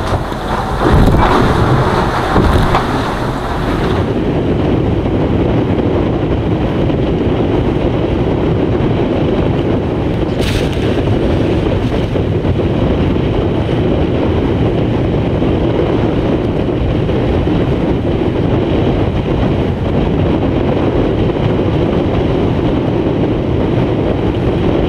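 Strong headwind roars across a small offshore racing sailboat during the Mini Transat 6.50 in rough seas, a loud, constant buffeting rush with a burst of heavier gusting at the start and no talk.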